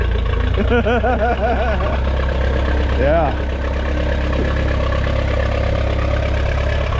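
A Minneapolis Moline Jetstar 3 tractor engine runs steadily at a low idle, a continuous rumble throughout, with brief whining machinery sweeps and a short spoken word over it.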